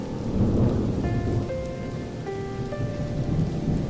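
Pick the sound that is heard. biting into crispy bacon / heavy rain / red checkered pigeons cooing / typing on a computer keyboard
heavy rain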